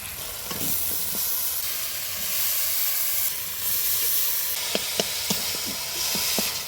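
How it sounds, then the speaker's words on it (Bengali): Boiled cabbage, potato and chickpeas are tipped into spices frying in a pan, raising a steady loud sizzle and hiss, with a few sharp clinks of stirring near the end. "এবার সেদ্ধ করে রাখা বাঁধাকপি, আলু আর ছোলাটা দিয়ে দিব।"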